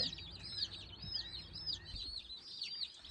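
Many baby chicks in a brooder peep in high, overlapping chirps, a busy continuous chorus heard fairly softly and close by, with no talking.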